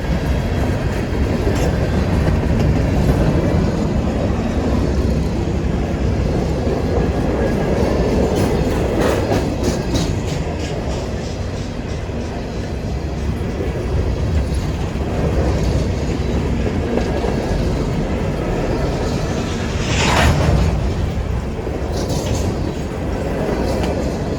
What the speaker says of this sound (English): let's just enjoy the rest of the train as it's coming to an end